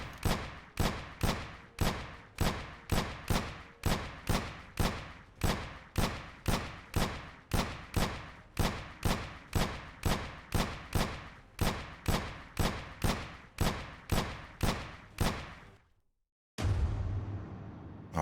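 Rapid gunshots fire in the Aim Lab aim-training game, a long run of evenly spaced sharp cracks close and loud, ending in a brief silence and then a different interface tone.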